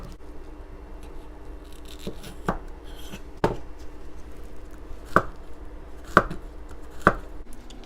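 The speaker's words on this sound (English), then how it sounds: "Let's make cucumbers look fancier using this peeler." A vegetable peeler strokes down a cucumber in a kitchen, producing a handful of sharp, scattered scraping clicks spaced a second or so apart over a quiet room.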